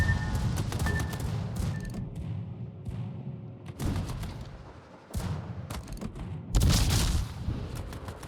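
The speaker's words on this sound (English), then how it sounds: "And here come torpedoes." Torpedo hits on a warship in a naval battle game: several heavy booming impacts and bursts of explosion noise, with a loud final blast near the end over steady rumbling ship and battle sound.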